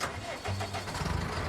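Tractor engine in Farming Simulator 19, a low mid-pitched rumble that steps up and pulses as if starting and revving, close and steady beneath a voice.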